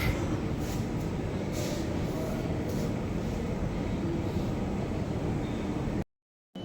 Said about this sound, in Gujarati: હજી અત્યારે મેટ્રો ગયા